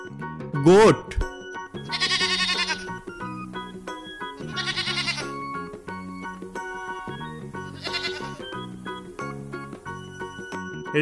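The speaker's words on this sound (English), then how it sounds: "Goat." A goat bleats three times in wavering, nasal cries spaced a few seconds apart, set against soft jingling background music with a bright swoop at the start.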